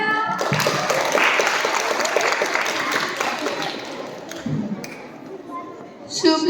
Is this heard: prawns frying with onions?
no